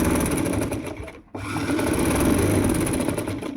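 A sewing machine stitches palazzo pants in a steady, close whirring run, briefly stopping for a moment before resuming at the same even pace.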